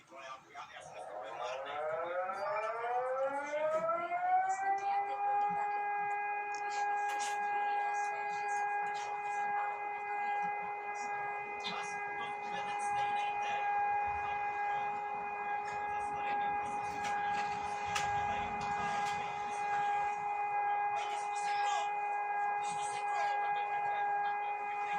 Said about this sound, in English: And then there's the zkouška siren